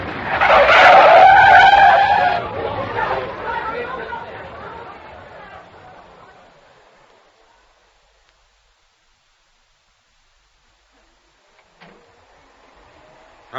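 A car's tyres skid in a long loud screech that fades away over several seconds, with no voices, followed by near silence and a faint late knock.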